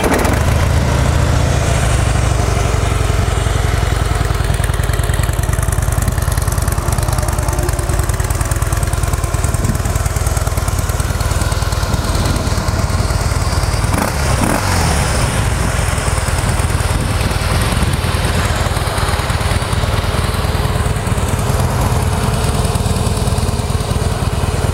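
A Harley-Davidson Breakout with its factory exhaust idles up close, a loud, steady low rumbling throb that holds an even rhythm with no talking.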